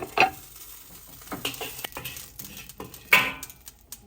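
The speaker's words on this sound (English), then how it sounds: "So as of right now, the shrimp is almost cooked, but not quite." Shrimp cook in a pan for Kung Pao shrimp, with soft sizzling under clinks and scrapes of a utensil stirring against the pan, two sharper metallic hits standing out.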